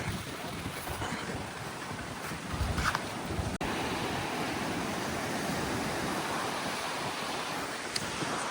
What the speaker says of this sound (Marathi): चारों तरफ समुद्र है